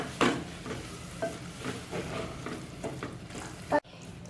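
Eggplant bharta is stirred in a pan over a low gas flame, a soft continuous sizzle broken by scraping spoon strokes and one sharper knock near the end.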